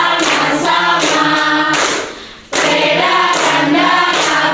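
Group of students clapping together in a classroom, loud rapid applause in two bursts separated by a brief fade and pause, close and crisp with no talking over it.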